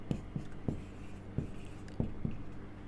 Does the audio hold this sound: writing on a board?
yes